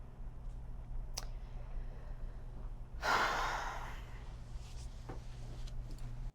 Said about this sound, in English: Heavy breath, you know, fiddling with the clothes.